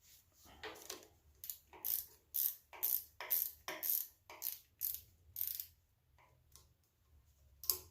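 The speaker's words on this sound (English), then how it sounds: "I'll have to use a wrench for these upper ones here to get them nice and snug." A wrench ratchets fuel pump bolts snug on a 350 small block engine, giving a close, quiet run of about a dozen crisp clicking bursts in steady rhythm before pausing.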